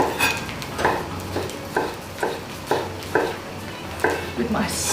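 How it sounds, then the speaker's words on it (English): A super sharp knife slices through tomato on a board, giving about nine evenly spaced crisp cuts at a steady rhythm, close and clear, over a faint low kitchen hum. "I'm just going to slice some tomato"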